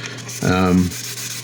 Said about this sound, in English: So I can be a little more aggressive with my sanding to get rid of those